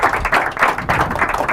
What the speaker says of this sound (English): that's a good place to clap if you ask me